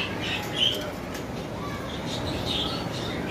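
Lovebirds, including a sea-green male, chirp in a bird shop: scattered short high chirps rise over a steady background hum of the shop, with no clear talking.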